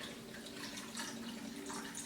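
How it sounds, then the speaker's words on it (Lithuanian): Water is poured into a mixing bowl while slime is being made, a soft, continuous trickling splash lasting a couple of seconds with no talk. "A tu užpilt vandenį gali"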